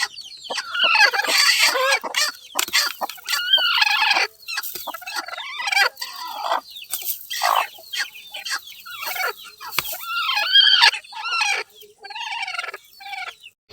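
Hens cluck and murmur close by in a steady, busy stream of short calls as a hen is set on a nest to brood eggs, with no one talking.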